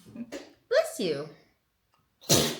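A single sharp sneeze near the end, close and loud, following a short stretch of people talking and laughing.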